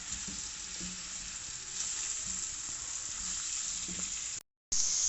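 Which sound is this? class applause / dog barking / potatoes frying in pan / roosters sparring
potatoes frying in pan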